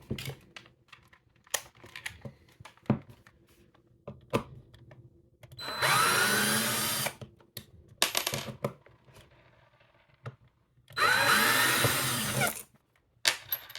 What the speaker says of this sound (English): we'll start by taking out these 2 plastite screws in the back